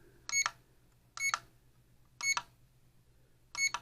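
A HOBBYMATE Elite balance charger gives four short, evenly spaced electronic beeps, bright and clean against a quiet background hum.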